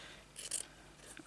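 Scissors trim fabric for a craft patch in a couple of quiet, quick snips close by, faint and brief with no talk.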